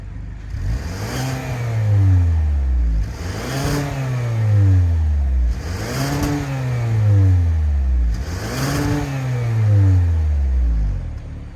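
A 2019 Kia Optima SXL engine revs hard four times in a row through functional dual exhaust, each rise in pitch falling away before the next, loud and close with a throaty exhaust note.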